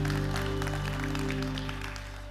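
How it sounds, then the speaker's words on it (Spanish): A church congregation applauds during a worship service, a steady wash of clapping over sustained held musical tones that slowly thins toward the end. "Damos un fuerte aplauso a nuestro Señor"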